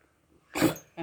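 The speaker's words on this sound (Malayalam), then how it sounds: "അയ്യോ ചുമ വന്നേ" Two raspy, broadband coughs from a puppy drinking milk, close by: a longer hacking burst followed by a shorter one, with quiet before.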